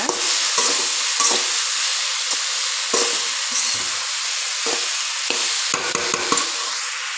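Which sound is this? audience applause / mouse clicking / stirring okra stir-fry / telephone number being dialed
stirring okra stir-fry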